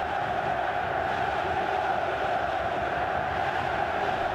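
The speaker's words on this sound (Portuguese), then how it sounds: "No momento que a torcida não segura mais o grito." Large football crowd at the 2012 Libertadores final between Corinthians and Boca Juniors, a dense steady roar of shouting and chanting that fills the stadium without pause.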